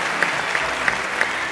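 A studio audience at a Turkish TV singing talent show claps steadily and densely, with a few sharper claps standing out over a continuous wash of applause.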